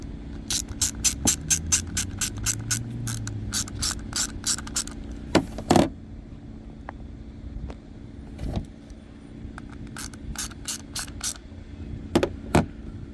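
Torx T20 bolts being driven into the plastic housing of a Mercedes electronic ignition switch, a close ratcheting tool with quick bursts of sharp clicks, some pauses and a few louder knocks.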